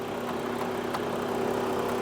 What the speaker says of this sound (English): excuse the noise for the fan for the AC compressor